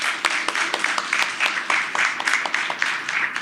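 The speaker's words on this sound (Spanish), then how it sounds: "que de igual manera pido un aplauso para él" Audience applause at a ceremony marking the 150th anniversary of Francisco I. Madero's birth in Mexico City, a steady patter of many hands clapping at moderate level for a few seconds.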